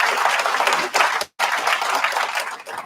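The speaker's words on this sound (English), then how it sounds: "would you please give Mr. Billy Walters another gigantic round of applause?" Applause at a graduation ceremony held at a federal prison vocational program, loud and close, with dense clapping broken by one short gap before it resumes.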